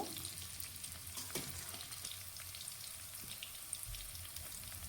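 Bay leaves fry in hot oil in a pan, giving a soft, continuous sizzle with faint scraping as they are stirred, quiet and close, with no voices.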